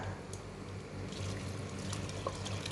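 Coconut milk and water poured into a pot of sautéed ginger-garlic paste, tomato, coriander and mint for ghee rice, a soft continuous liquid pour and gentle sloshing with a low steady hum underneath, fairly faint and without speech.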